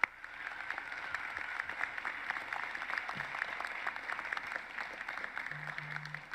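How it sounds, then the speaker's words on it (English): An audience at a high school graduation ceremony claps for the school staff, a steady, fairly faint patter of many hands with no voices over it, with a brief low hum near the end. "we want to give them a big round of applause for all of the work that they have done"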